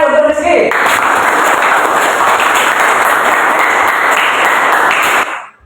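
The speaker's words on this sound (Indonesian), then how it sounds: "Tepuk tangan untuk Rizky" Classroom students applauding a classmate named Rizky, a loud, sustained wash of clapping that cuts in after a brief voice, holds steady, then drops off sharply at the end.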